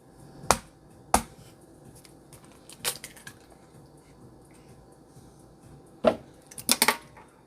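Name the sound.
cracking eggs for brownie batter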